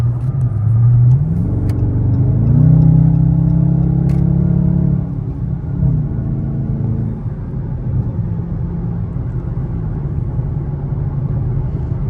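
A Dodge Charger GT cruises at about 80 mph on an expressway, its engine giving a steady loud rumble with a brief revving surge early on, then easing into a smooth, constant road drone.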